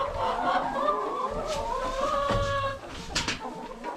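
Chickens on a farm cluck and call close by in a quick, overlapping chatter, with a short rooster-like crow among them and some soft background noise.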